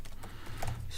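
Typing on a computer keyboard, a quick run of soft clicking keystrokes, close and moderately quiet, with no voices.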